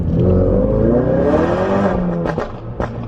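A modified car with a full aftermarket exhaust is floored in a low gear, its engine note climbing loud and close in a rising full-throttle pull before a brief dip at the shift, with no talk over it.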